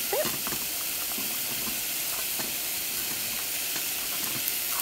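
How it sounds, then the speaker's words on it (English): Vegetables sizzle in a hot pan for vegetable soup, a dense, continuous hiss with faint crackling heard close up and no talk over it. "Callum's now going to add in the vegetables, the rest of the vegetables into his pan."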